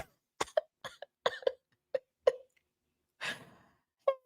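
A series of short, sharp coughs in uneven bursts, close and fairly loud, followed by a breathy sigh and another cough.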